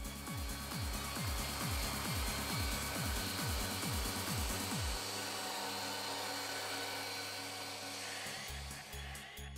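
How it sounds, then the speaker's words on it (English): A high-pitched electric orbital polisher whirs continuously while polishing a headlight, with repeated dipping pitch sweeps early on as it works, then settles into a steady hum. "That's an orbital polisher, it has less torque than the sander but it turns a little faster"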